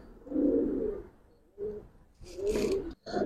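Giribaz pigeons in a loft give low, rolling coos in two or three separate bursts, close and moderately loud, with brief pauses between them.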